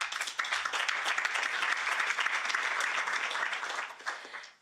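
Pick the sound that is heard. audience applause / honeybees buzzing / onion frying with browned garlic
audience applause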